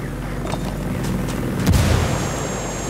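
A frag grenade goes off in the tactical shooter Ghost Recon Wildlands, one deep booming blast rising over a steady rumble of game background noise, with no talk.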